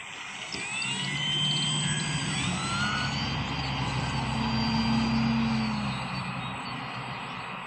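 An FMS Super Cub PA-18 RC plane comes in to land at low throttle, its electric motor whining steadily with a few rising and falling tones, set against broad outdoor wind and rumble with no talking.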